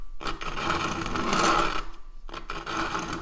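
A truck tire rubs against a steering arm, a gritty scraping grind that runs for nearly two seconds, stops briefly, then comes back as a softer rasp.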